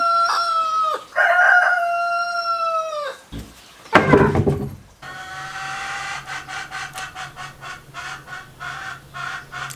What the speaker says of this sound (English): These chickens are crazy.